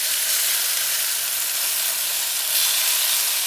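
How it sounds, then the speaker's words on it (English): Chicken sizzles in a pan with a steady, dense hiss of frying that swells a little toward the end, close by and with no voices. "you can hear the chicken sizzling"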